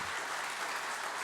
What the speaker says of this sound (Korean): 우리 박수로 환영해 주시기를 바랍니다